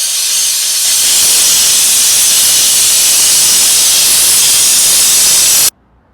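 Compressed air blasts steadily onto the rollers of a Ducati Monster 696 motorcycle chain, a loud, continuous close-up hiss that stops abruptly near the end.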